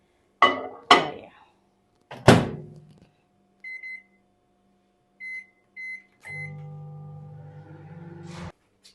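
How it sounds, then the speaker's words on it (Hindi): A microwave oven melting butter: a few sharp thunks as the door shuts, a handful of short keypad beeps, then a steady running hum for about two seconds before it stops. "अब इस बटर को हम डालेंगे माइक्रोवेव में"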